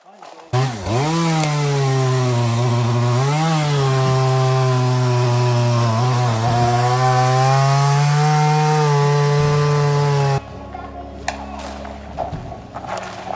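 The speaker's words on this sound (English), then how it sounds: "it's time to bust out the chainsaw and the hip waders" A chainsaw revs loudly and unevenly as it cuts logs on an offroad trail in Alaska, its engine pitch rising and dipping for about ten seconds before it stops and scattered knocks follow.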